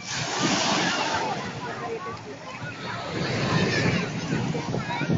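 Sea waves wash steadily onto a white-sand beach at a resort in Morong, Bataan, a broad continuous surf roar with wind, while people chat nearby throughout.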